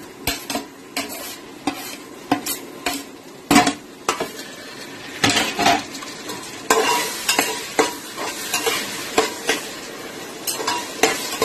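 Onion frying in a pan as tomatoes and fresh coriander go in for a village-chicken curry, with a spoon repeatedly scraping and clanking against the pan in an uneven rhythm over a soft sizzle.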